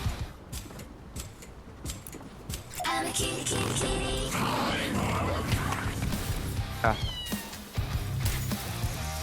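A black cat meows repeatedly in the Fortnite video game, its calls mixed with game effects and background noise, while a player talks over the action.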